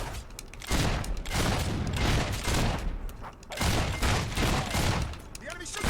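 Rapid gunfire from the video game Fable 3, bursts of shots crackling close and loud in a steady string across the whole stretch, with a brief lull midway.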